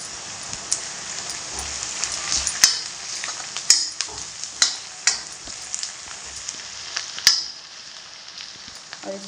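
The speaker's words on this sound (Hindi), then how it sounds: "और इसको तब तक भूनेंगे जब तक ये लाल ना हो जाए" Tomato masala with hing sizzles and fries in a pan, stirred now and then with a spoon that scrapes at irregular intervals over a steady close crackle.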